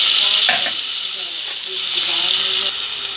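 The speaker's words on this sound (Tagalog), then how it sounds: "Ilagay na natin ang sibuyas. Add na natin, guys, ang kamatis." Onion and tomato sautéing in a pan, a steady bright sizzle with stirring scrapes throughout, close and loud, no talking.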